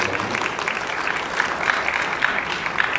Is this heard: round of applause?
yes